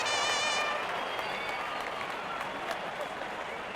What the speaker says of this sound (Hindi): जब अपोनेंट फैंस भी ताली बजा दे